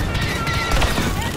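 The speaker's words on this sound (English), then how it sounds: "And don't stop firing!" Dense, continuous blaster fire from Star Wars Battlefront II, a loud wash of overlapping shots and impacts with a voice mixed into the din.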